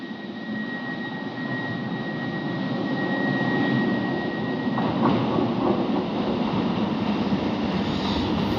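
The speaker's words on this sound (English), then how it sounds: "Oh, got metro cars." Metro cars pull into Park Lane Metro station, a steady, fairly loud rumble and hum of the train with a faint high tone, building slightly as it arrives and holding close throughout with no voices.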